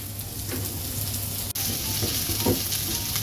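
Spring onion stems stir-fried on a high flame sizzle in a steady, loud hiss, close up, with light stirring scrapes and a brief dip partway through.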